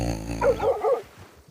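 A dog barks a few quick, close, fairly loud yips in a short burst, then falls silent.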